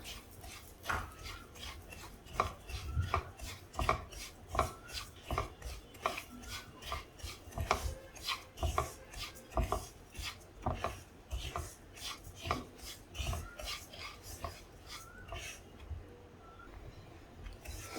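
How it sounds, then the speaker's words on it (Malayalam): Broken wheat stirred and roasted in hot ghee in a pan, a steady run of rhythmic scraping and rustling strokes close up, with no talk. "അതിലേക്ക് നമുക്ക് ഈ ഞുറുക്ക് ഗോതമ്പിട്ട് ഒന്ന് റോസ്റ്റ് ചെയ്തെടുക്കാം"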